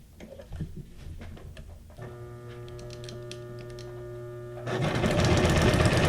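A sewing machine sewing a straight stitch, with a few soft clicks and taps, then a steady humming whir, and finally a louder, fast, dense run of stitching at the end.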